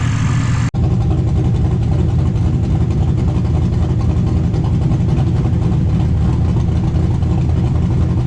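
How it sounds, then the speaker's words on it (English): The engine of a 1988 IROC-Z Camaro idles loud and close with a steady, even rumble. A brief cut comes near the start, and no one speaks. "So we're just gonna let this thing idle and hopefully that stuff will burn off."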